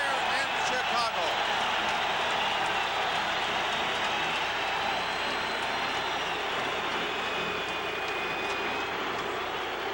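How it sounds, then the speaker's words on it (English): A hockey crowd at the Chicago Stadium during a 1986 playoff game against Toronto keeps cheering for Denis Savard, with a steady roaring ovation filling the arena throughout. "they're still cheering Denis Savard here in Chicago"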